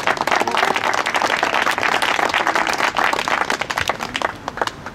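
Applause from an audience of patriots and organisers at a Génération Frexit peace rally in Lyon, dense steady clapping filling the room for about five seconds before thinning slightly at the end, no talk over it.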